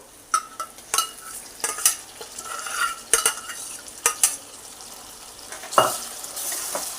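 A spoon stirs boiled bottle gourd into a spiced mixture in a pan, giving repeated sharp scrapes and clanks against the metal over a light sizzle, near and fairly loud, with no one speaking.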